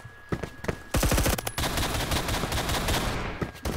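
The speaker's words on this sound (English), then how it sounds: "I like how I'm shooting the guy" Rapid automatic gunfire from the video game Phantom Forces, with dense bursts of shots that run almost continuously after a few separate opening pops, loud and close with no speech.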